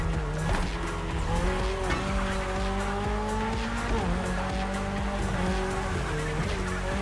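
Toyota GR86, a lightweight car with a naturally aspirated engine, racing through neon-lit city streets in The Crew Motorfest: a loud, continuous engine drone rising through the gears, with tire squeal and skidding along the way.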